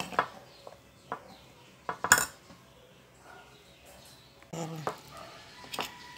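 A shrimp paste (alamang) torta mixture is stirred in a bowl, with a few sharp utensil clinks against the dish and scattered softer scraping, while a person speaks between the clinks.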